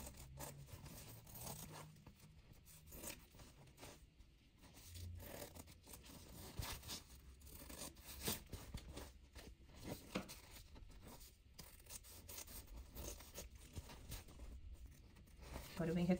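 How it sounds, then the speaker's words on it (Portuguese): Scissors snipping through nylon-laminated fabric at a sewing table, with soft, scratchy cuts and rustling material spread through the clip under a woman's speech. "aqui eu vou cortar ele com essa outra tesoura e depois eu corto o tecido."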